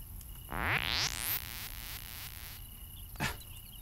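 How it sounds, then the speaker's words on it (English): A quick rising electronic sweep followed by a short buzzy whir, then a brief click, a compact game pickup effect over a faint background hum. "That's the sound of picking up a flashlight."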